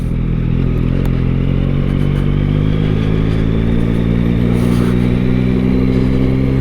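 A 2023 Yamaha MT-09 ridden through town streets near Braga, with a steady, loud engine drone and constant rumble close to the rider, plus light road clatter and no talk.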